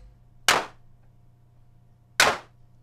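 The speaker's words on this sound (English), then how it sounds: "And suddenly we've got quite a realistic sounding clap" Two crisp synthesized hand claps from an FXpansion Tremor drum machine, sharp noisy bursts about a second and a half apart, each with a short decaying tail over a faint low hum.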